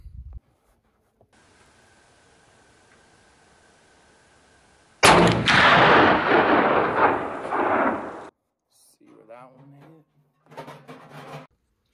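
A CVA Elk Horn Pro Mag muzzleloader fires a single loud shot on a 100-yard range, opening with a sharp crack and trailing into a long rumbling boom, with a few quiet voices afterward.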